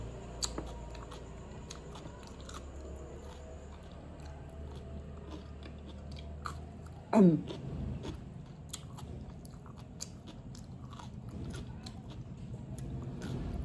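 A crunchy raw cucumber is bitten once, a sharp close crunch in a quiet room, followed by soft, intermittent chewing and small mouth clicks.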